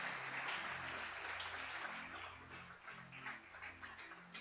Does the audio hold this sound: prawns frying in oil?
no